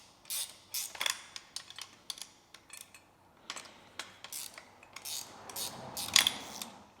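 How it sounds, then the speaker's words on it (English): Ratchet wrench turning bolts while assembling a chair, giving bursts of sharp clicking strokes in uneven runs, close and clear, with short pauses between bursts and no talking. "I love this ratchet set"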